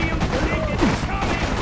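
Gunfire from the video game Freedom Fighters, a dense burst of rapid shots mixed with game sounds, with a voice speaking over the action.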